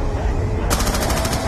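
Gunfire while shooting zombies in Black Ops 2 Zombies, Mob of the Dead map, a rapid automatic burst of shots over loud continuous game noise, close and dense.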